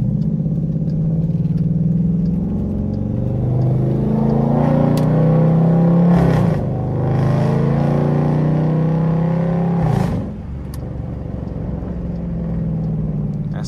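A catless Dodge Durango RT engine growls loud and close through repeated revs during power downshifts, with the pitch rising and falling and a sharp drop near the end.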